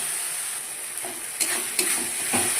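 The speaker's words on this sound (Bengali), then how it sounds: "এবার যেই মশলাটা করে রেখেছিলাম সেটা দিয়ে দিচ্ছি, দিয়ে এবার ভালো করে এটাকে কষিয়ে নেব" Spice masala stir-fried in oil in a pan for a mutton curry, a steady bright sizzle with a few soft scraping stirs near the end, close and alone without talk.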